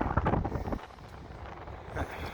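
Gusty coastal wind at Newport, Oregon buffets the microphone in low, rumbling bursts, strongest at the start and again near the end, with no one speaking.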